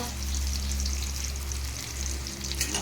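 Fresh home-grown vegetables fry in a small amount of oil, giving a steady close sizzle with a continuous bubbling hiss and no break throughout.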